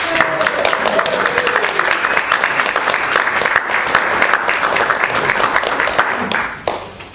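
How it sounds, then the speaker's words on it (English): A church congregation applauds at a Christmas service, loud, dense clapping that holds steady for about six seconds before tapering off at the end, with scattered cheers mixed in. "One more round of applause."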